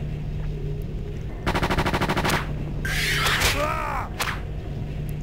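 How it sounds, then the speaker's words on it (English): Rapid automatic gunfire bursts in the 1994 Aliens vs Predator game on Atari Jaguar, a fast rattling volley followed by warbling, swooping electronic effects and a few sharp shots, loud and up front. "So I can't even see where I'm being shot from now. Who was shooting at me?"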